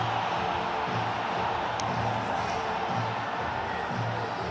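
Pakistani cricket crowd celebrating a one-day international win over Australia, a steady broadband roar of cheering and noise that fills the whole stretch at an even loudness.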